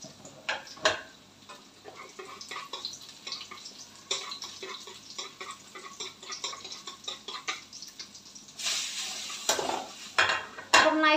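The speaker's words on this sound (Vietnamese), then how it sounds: "Giờ mình bắt đầu mình đổ vô mình xào" Noodles and vegetables being stir-fried in a pan, with repeated clanks and scrapes of a utensil against metal and a rising sizzle near the end, no talking.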